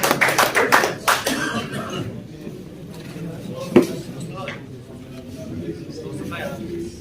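Brief clapping from the audience at a Kashmir pigeon tournament prize ceremony, a short cluster of claps that quickly dies away into room chatter, with one later isolated knock or tap.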